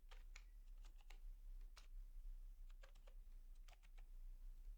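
Quiet, close key taps on a computer keyboard as a name is typed, coming in small irregular bursts of several clicks over a low steady hum, with no talk.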